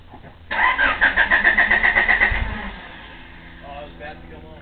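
A hard-starting 1988 Honda Accord engine cranks in a quick, rhythmic chug for about two seconds and then winds down without catching; a brief murmur of voices follows afterward.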